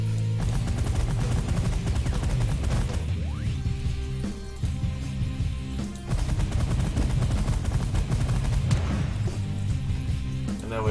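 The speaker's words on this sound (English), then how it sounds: "Doesn't like my minigun." A minigun fires in the space strategy video game The Last Federation: a loud, continuous stream of rapid shots that runs for the whole stretch, with a brief dip near the middle.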